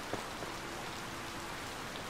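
Rain in the farming game Harvest Moon: Light of Hope falls as a soft, steady patter, quiet and even, with a faint drop or two standing out near the start.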